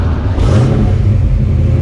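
A Foxbody Mustang engine fitted with Mac mufflers revs loudly and close by, its deep rumble swelling briefly into a rev early on before holding a throaty roar.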